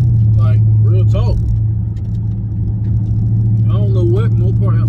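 Mopar muscle car driving with a deep, steady engine rumble throughout, close and prominent, while someone talks over it.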